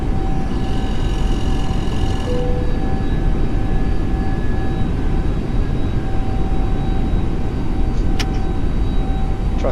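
A FlightSimLabs Airbus A321neo in a flight simulator, climbing after takeoff from Tashkent, gives a constant loud engine roar with a thin steady whine over it, unbroken and with no speech.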